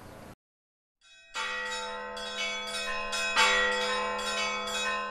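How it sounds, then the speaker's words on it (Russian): Church bells ring out loudly after a brief burst of noise and a pause, several bells overlapping in a rich, continuous peal with repeated strikes. "Звон колоколов чарует своим звуком."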